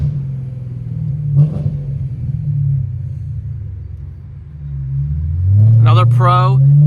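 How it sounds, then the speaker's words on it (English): A BMW E92 M3 gives a low, steady engine and exhaust rumble that swells toward the end as it revs up. A voice talks over the rumble. "Another pro is the way the car sounds."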